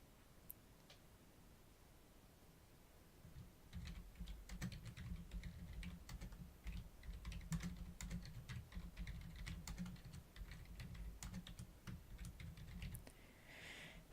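Quick, irregular taps on a computer keyboard, close and fairly soft, run for about ten seconds, with a few isolated clicks before the typing starts.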